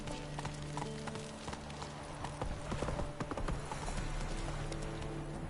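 Roach, a horse in The Witcher 3, gallops steadily with a continuous rapid clatter of hooves beneath a sustained musical backdrop.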